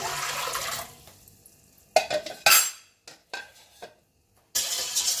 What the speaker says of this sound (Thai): เราก็เติมน้ำลงไปให้หมดเลยนะคะ